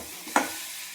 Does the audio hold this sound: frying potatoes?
yes